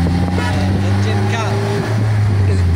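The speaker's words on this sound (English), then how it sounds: "This is a car engine." A 4-cylinder car engine, of an American make, idling steadily with a low constant hum and harmonic drone, close by, with people talking over it.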